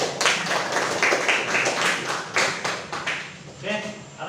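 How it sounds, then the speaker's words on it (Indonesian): Pupils in a classroom lesson clap together, a dense patter of hand claps that fades into a few scattered taps near the end. "Oke, tepuk tangan."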